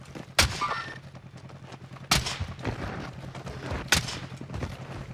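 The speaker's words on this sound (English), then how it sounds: "They're firing at him from lumber." Three sharp, loud gunshots ring out roughly evenly spaced in a Call of Duty Warzone match (Cold War Warzone, Season 3). Each crack decays quickly into quieter background game noise.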